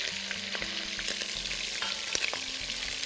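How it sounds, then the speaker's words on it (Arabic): Onion frying in a little oil for a chicken and white bean tagine: a close, steady hiss of sizzling with a few light stirring knocks, no one speaking. "نحط شوية زيت، ودول بحمر معاها بصل"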